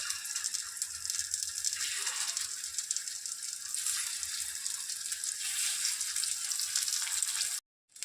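Chicken keema kebabs fry on a tawa with a dense, continuous hiss and crackle of oil, close and steady, stopping abruptly near the end.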